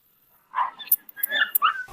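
A puppy whimpers and yips in a quick run of high, sharp cries, close by and fairly loud, with short barks and squeals breaking through near the end.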